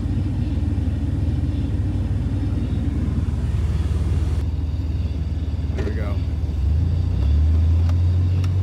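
Steady traffic on a Las Vegas street at night, with cars rumbling past close by in a continuous broad wash of engine and tire noise and a deeper vehicle swelling toward the end, while someone speaks briefly over it.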